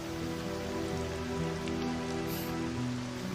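Steady rain falls through the whole stretch as a dense, even patter on a surface, with a low tonal hum running beneath it and no voices.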